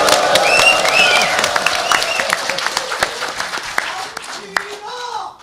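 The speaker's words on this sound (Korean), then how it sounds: "좀 더 환호와 함께 박수를 쳐주시면 감사하겠습니다" An audience at a National Assembly policy forum breaks into applause with cheering, a dense burst of clapping and shouts that gradually thins into scattered claps, then a voice begins to speak.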